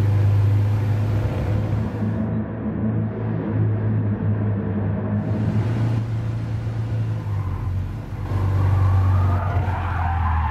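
A 1966 Volkswagen Beetle 1200 in Gran Turismo Sport spins out, its tires skidding and squealing loudly over a steady low engine drone for several seconds, with no voices.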